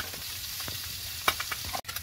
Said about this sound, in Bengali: এদিকে কিন্তু দেখতে দেখতে এক খোলা মাছ আমার ভাজা হয়ে গেল।